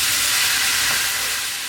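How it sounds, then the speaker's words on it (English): Ground hamburger meat browning in a skillet, a steady, dense sizzling hiss heard close and fairly loud throughout, with no talk. "we're going to go ahead and get this hamburger nice and browned up"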